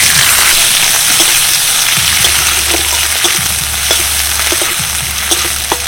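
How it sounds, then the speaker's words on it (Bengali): A medium chopped onion frying in hot oil, a loud continuous sizzle close up with bursts of crackling and stirring, and a low hum running underneath. "এবার দিয়ে দিচ্ছি একটা মিডিয়াম সাইজের পেঁয়াজ কুচি।"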